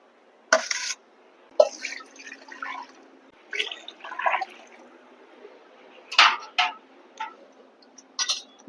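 Water splashes and drips in short separate bursts as cut fish pieces are rinsed and cleaned by hand, with quiet pauses between each handling.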